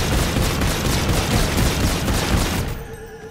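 Dense, sustained automatic gunfire in Call of Duty Zombies in Spaceland, a rapid unbroken stream of loud shots for nearly three seconds before cutting off abruptly into quiet game ambience.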